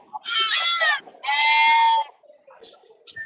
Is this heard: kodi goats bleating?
yes